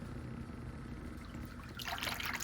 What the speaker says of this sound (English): It's a 1/2 inch 90-degree fitting, and it allows you to direct the water.